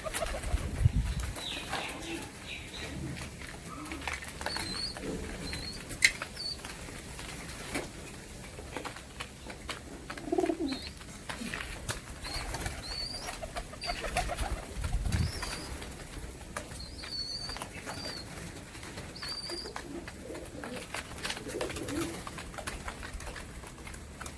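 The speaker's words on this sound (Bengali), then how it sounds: "পায়রাগুলো খুব শখ করে খাচ্ছে বাচ্চা থেকে ধারি সমস্ত পায়রাই রয়েছে" Pet pigeons, young and adult, feed on scattered grain, with soft coos, pecking patter and occasional wing flaps, fairly faint and continuous over a quiet room tone.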